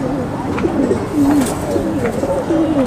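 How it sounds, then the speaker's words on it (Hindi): Pigeons coo repeatedly in low, rolling phrases, a Rajasthani breed among them. The coos are close and fairly loud, with steady room noise around them and no talk. "ये देखें आप, बहुत अच्छा कबूतर है माशाल्लाह"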